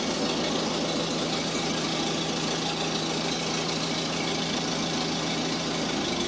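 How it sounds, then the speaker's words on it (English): A car engine runs loud and close with a steady, dense drone throughout, the car being driven through its gears, with no talk. "Give her a little ride here and run her through the gears."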